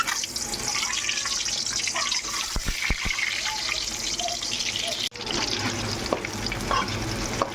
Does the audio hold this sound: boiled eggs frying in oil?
yes